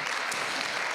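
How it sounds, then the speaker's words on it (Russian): A brief burst of dense, steady clapping from an audience at a popular-science lecture on beavers in Kirov. "Аплодисменты."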